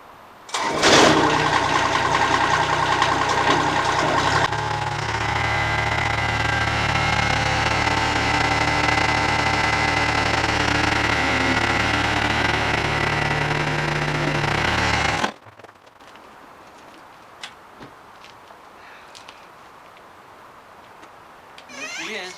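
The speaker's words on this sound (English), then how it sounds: "Next step, push it in with the tractor." A tractor engine roars loudly and steadily with low rumbling for about fifteen seconds while pushing a Madrona log at a sawmill, then cuts off abruptly, leaving quiet background noise.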